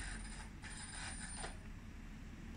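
RC tank's outer wheel track jumping and grinding, a continuous close mechanical whir and rattle with a few sharper clicks, fairly quiet, no talk.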